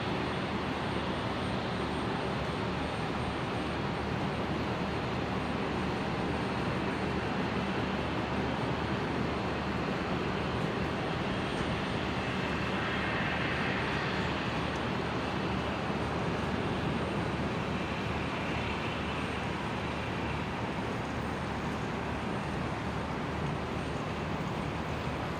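A Jetstream 32 turboprop arriving at Brisbane airport from Ballina, heard as a continuous distant engine roar that swells gently in the middle, with steady broadband noise and no talking.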